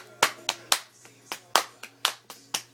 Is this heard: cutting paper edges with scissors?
no